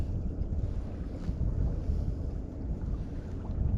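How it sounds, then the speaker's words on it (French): Strong wind buffeting a small boat at sea on calm water without swell, a continuous low rumbling gust noise close to the microphone that swells and eases slightly with no talking. "Il y a trop de vent là."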